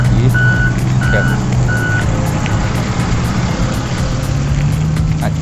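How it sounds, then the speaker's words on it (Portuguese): A road construction machine working on a highway duplication project, its loud, steady engine rumble close by under a series of regularly spaced high reversing beeps, with faint voices underneath. "Máquina trabalhando. Tirando aqui a bagaço da pista aqui"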